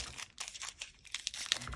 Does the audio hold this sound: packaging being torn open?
yes